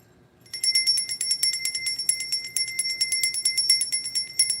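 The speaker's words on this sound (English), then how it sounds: "We're going to ring the bell on that." A bell rung steadily in a quiet room, with bright, clear, repeated strikes in a fast even rhythm that keep ringing for several seconds. The ringing is close and loud, with no voices.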